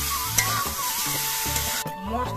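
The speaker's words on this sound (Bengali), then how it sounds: "এবার আলু দিয়ে এই মশলাগুলো দিয়ে কিছুক্ষণ কষিয়ে নেব" Potatoes sautéing with ground chili-cumin paste in a hot pan, with a loud continuous sizzle, spatula scraping, and a steady tonal hum running throughout, near and without voices.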